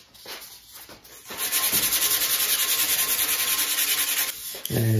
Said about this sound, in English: Then take a piece of sandpaper.